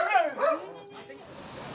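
A dog injured in a road accident barks and whimpers while kept for inpatient treatment at a veterinary clinic, with two loud close yelps followed by fainter whines over a steady room hum.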